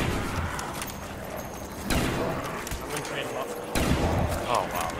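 Gunfire in a zombie survival video game, two sharp blasts punching through a dense, noisy game soundscape, with a voice murmuring underneath.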